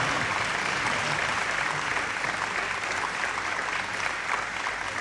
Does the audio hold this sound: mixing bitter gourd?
no